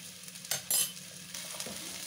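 Paneer cubes and melon seeds frying in a pan, a soft continuous sizzle with a brief louder burst and a light scrape of stirring.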